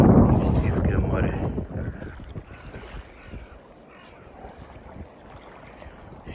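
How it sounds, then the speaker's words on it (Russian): Wind blows at the mouth of the Dolgo River, where it meets the Gulf of Riga on the Baltic Sea. A strong buffeting gust rushes at first, then eases to a softer, steady blustering. "Сегодня ветрено, воздух свежий."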